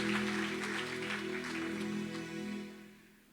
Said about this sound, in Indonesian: Mari kita berikan semangat, tepuk tangan kepada tim Praise and Worship kita.